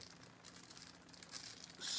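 A small plastic bag holding a little gripper gadget crinkles faintly for a couple of seconds, soft rustles building to a brighter crackle at the end, close and without talk.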